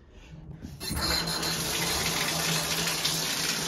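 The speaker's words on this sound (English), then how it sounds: "Now we're gonna kind of rinse the bike down and then scrub it up with the dish soap." A bicycle being rinsed with a shower hose in a bathroom: a steady, loud rush of water starts abruptly after a brief quiet moment and continues evenly, close up.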